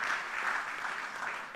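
Steady applause fills a hall at the ICSI National Awards for Excellence in Corporate Governance, with many hands clapping at moderate volume throughout and no voices standing out.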